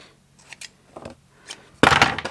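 Scissors snip ribbon in a few quiet, scattered cuts, then a louder burst of rustling and crunching near the end.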